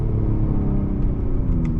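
A Mercedes E53 AMG with a 9-speed gearbox accelerates hard, its engine a loud, steady low rumble heard from inside the cabin.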